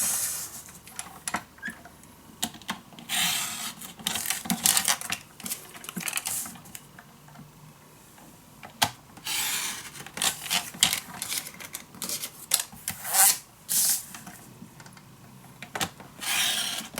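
Paper being cut for a scrapbook pocket page, a series of close crisp snips and slicing rasps in irregular bursts, with no talking.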